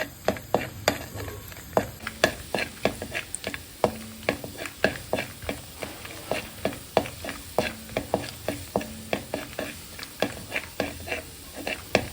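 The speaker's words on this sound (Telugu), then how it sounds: "నాకు ఇక్కడ పచ్చి కొబ్బరి ఉందని నేను ఇలా తీసుకొని వేయిస్తున్నాను" Fresh coconut pieces frying in a pan over medium flame, a soft sizzle broken by a steady rhythmic tapping of a spatula stirring, close and moderately loud, with no talking.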